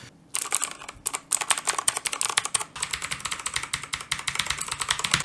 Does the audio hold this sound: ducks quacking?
no